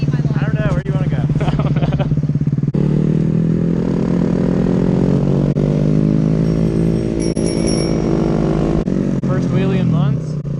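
A motorcycle engine runs loud and steady throughout, its low harmonic drone rising and falling with the throttle while the bike is ridden, with a rider's voice talking over it at points.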